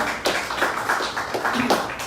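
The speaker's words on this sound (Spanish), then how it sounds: "Le damos un aplauso al Señor" A congregation claps during a Torah study service, with a scattered, uneven patter of hand claps that builds and swells across two seconds.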